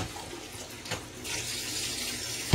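Cold water running from a kitchen tap while making yam pepper soup, a soft splashing flow that starts gently and strengthens partway through, fairly close and alone.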